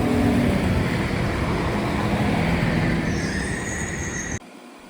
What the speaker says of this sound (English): A Class 197 CAF-built diesel unit hurries along towards Shotton.